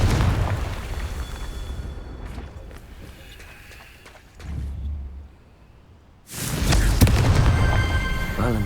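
Confringo blasting-spell explosions from Hogwarts Legacy burst as loud, broadband booms, a strong one landing near the start and another around two-thirds through, with quieter rumbling and footsteps between.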